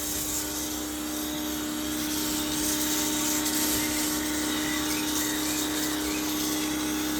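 Kärcher pressure washer spraying foam onto a car, a steady loud motor drone with broad hissing spray running continuously without pause and no voices.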